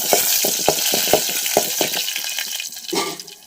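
Garlic and garden curry leaves sauté in hot oil in a pan over a village wood-fired stove, a low sizzle under a run of sharp spoon-and-pan knocks and scrapes as the mix is stirred, close and fairly loud.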